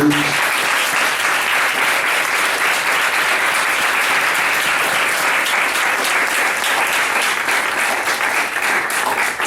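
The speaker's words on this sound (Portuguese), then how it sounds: "Uma salva de palmas para vocês." An audience at the close of an academic colloquium session gives a sustained round of applause for the speakers, dense, loud clapping that holds steady throughout.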